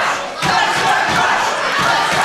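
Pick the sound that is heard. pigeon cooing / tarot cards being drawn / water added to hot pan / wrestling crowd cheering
wrestling crowd cheering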